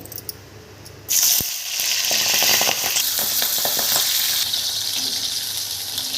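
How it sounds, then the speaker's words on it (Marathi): Corn kernels hit hot oil and set off a loud, steady sizzle that bursts in suddenly and holds strong, with a few sharp spattering crackles near the start. "आपण मक्याचे दाणे काढून घेतलेले आहे आणि हे आता आपण तळून घेणार आहे"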